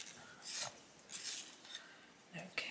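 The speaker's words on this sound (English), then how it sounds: "I'm just going to give it a sharpen." Colouring pencil sharpened in a handheld sharpener, a few short, soft rasping scrapes in separate bursts, close and quiet with no talk.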